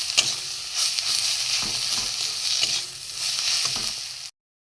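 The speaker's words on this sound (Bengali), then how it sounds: "একসাথে আমি একটু কষিয়ে নেবো মশলাটা গ্যাস কমিয়ে কমিয়ে করতে হবে" Spice masala of turmeric, cumin, coriander and garam masala powders frying in a pan over low gas for an egg potato curry: a close, steady sizzle with repeated stirring scrapes, cutting off abruptly near the end.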